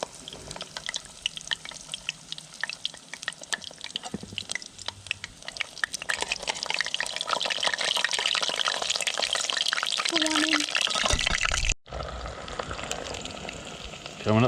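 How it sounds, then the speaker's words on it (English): Skippy fish fingers deep frying in hot oil, a loud dense crackling sizzle that holds steady throughout with a brief dropout near the end, no voices over it. "Put them right in the oil."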